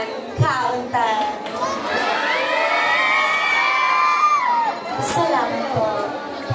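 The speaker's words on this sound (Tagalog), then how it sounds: "At hiyawan, countdown." A pageant crowd at a Miss Gay Royal Rumble cheers and shouts loudly, with whoops and high excited voices that rise and hold for several seconds before fading back.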